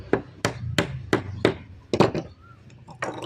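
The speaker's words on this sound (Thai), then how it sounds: "ที่นี่ก็ตอกได้" A fitting is hammered onto a water heater pipe with about nine sharp, close blows at an uneven pace, each a crisp knock with a short ring, separated by brief pauses.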